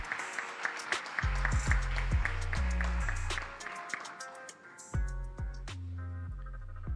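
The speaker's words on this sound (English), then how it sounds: "Could you kindly give a round of applause to our immediate past president?" At the Jamaica Teachers' Association 61st annual conference awards ceremony, the audience applauds the immediate past president with steady, sustained clapping, while music with a bass line plays over the applause.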